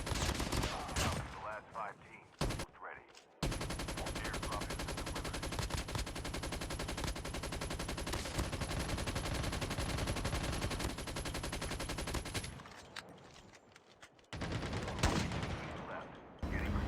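Continuous automatic gunfire in a Call of Duty Mobile battle royale match, a dense, steady stream of rapid shots lasting about nine seconds, framed by shorter bursts and game sounds before and after.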